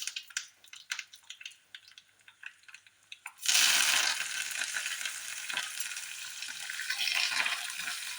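A few quiet clicks and taps, then a sudden loud hiss as cumin seeds hit hot oil, settling into continuous crackling sizzling.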